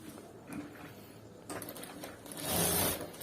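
A sewing machine stitches a gents shirt in short bursts of close mechanical whirring and clicking. The run swells louder for its last stretch.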